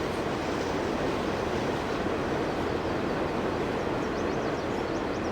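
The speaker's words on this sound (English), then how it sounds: "There's a train coming." A train rolls past steadily in Farming Simulator 19, a continuous broad rushing rumble that holds at an even loudness throughout, with no voices over it.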